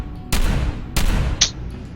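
Two sharp gunshots in Fallout 4 on PC ring out about half a second apart, each loud blast trailing off, followed by a brief higher metallic click or ping.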